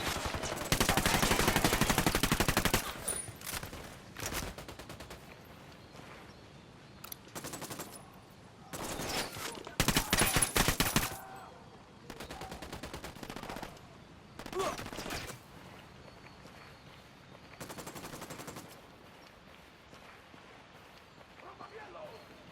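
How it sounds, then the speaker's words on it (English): Automatic gunfire at a farm in the Ghost Recon Wildlands video game: several sharp, loud bursts separated by quieter gaps, with voices talking between them. "Opening fire."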